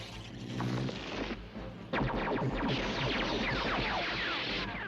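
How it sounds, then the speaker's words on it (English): Cartoon gunfire from G.I. Joe soldiers firing apples out of their guns: a dense, continuous barrage of rapid, overlapping zapping shots and booms, loud and sustained, briefly dipping before an even busier burst. "They're shooting apples out of their guns."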